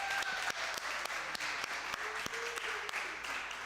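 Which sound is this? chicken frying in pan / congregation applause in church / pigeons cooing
congregation applause in church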